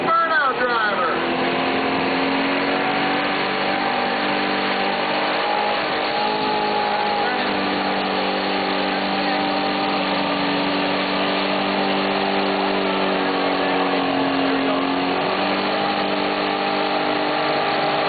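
A 1986 Chevy truck engine roars at a 2003 burnout contest in Joliet, held at high revs in a loud, sustained drone with shifting pitch for about eighteen seconds, while voices talk over it.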